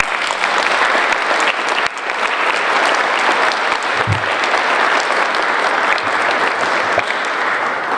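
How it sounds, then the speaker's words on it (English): A sustained round of applause fills a room at an award presentation, dense and even for several seconds with no talk over it. "Join me in a round of applause to celebrate Michael."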